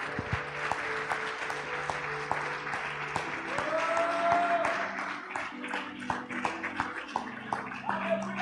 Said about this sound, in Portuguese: Solte as suas mãos e dê um forte aplauso a Ele nesse dia.